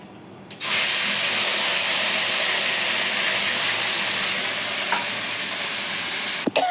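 Spice paste hits hot oil after black cumin seeds and bursts into a loud, sudden sizzle that holds as a steady, close hiss, with a faint clink near the end.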